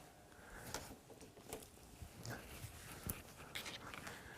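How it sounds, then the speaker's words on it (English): A dog indoors pants in quick soft breaths close by, with faint snorts and small rustles scattered through the quiet room. "There is a dog in here."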